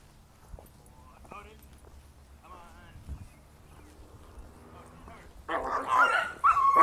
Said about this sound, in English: What kind of dog is that?